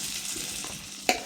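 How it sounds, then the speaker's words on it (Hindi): Finely chopped onion fries in a pan for kebab masala, a soft steady sizzle with a brief sharp clink near the end. "बारीक कटा हुआ प्याज फ्राई हो रहा है।"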